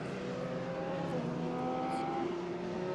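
FIA Formula 3 race cars at the Nürburgring driving into the pit lane during qualifying, engines droning and whining steadily, some pitches shifting.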